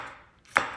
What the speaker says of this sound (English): I'm gonna chop it up like this into small stripes, just like that